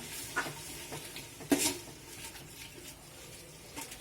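Onions and ginger garlic paste fry in a pan with a soft, low sizzle, broken by occasional scraping stirs and a sharp clatter of a utensil against the pan.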